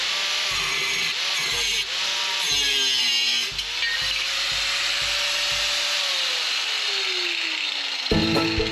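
Hand sawing and scraping on a boat trolling motor mount during a tapered cut, with rhythmic rasping strokes and a rising tonal squeal, fairly close. A burst of louder clattering comes near the end.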